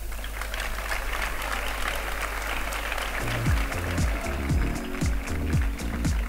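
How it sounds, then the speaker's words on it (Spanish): Applause at a secondary school graduation ceremony at IES Ciudad de Coín in 2023, a steady dense patter from a large audience lasting throughout, with a voice beginning to speak over it midway. "Un fuerte aplauso"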